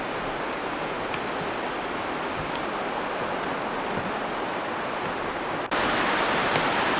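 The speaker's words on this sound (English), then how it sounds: "This is the runoff down below the falls, Falls Creek." Creek runoff rushes steadily below a waterfall at Falls Creek, a dense, continuous broadband roar of flowing water that stays loud and even throughout, growing slightly stronger near the end.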